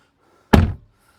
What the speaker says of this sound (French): Je ferme la porte.